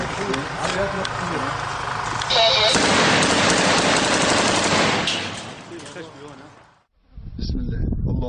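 Rapid bursts of gunfire from an improvised weapon ring out loud and dense, running for several seconds, cutting off, then resuming; voices are mixed in with the shots.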